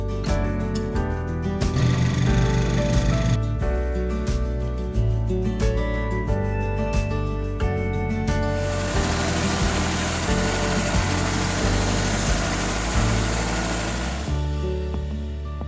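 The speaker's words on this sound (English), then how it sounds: "Then I'll cut these out and sand them down," A power tool cuts and sands small zebra wood ear pieces, a loud whining motor with tonal buzzing that shifts pitch as the blade and sander engage the wood, steady and close.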